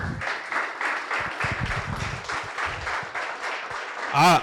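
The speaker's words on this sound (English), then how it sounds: "Big round of applause for the panel." An audience gives a panel a round of applause at a discussion session on Black men building loving relationships: steady clapping throughout with a voice talking over it and a brief louder burst near the end.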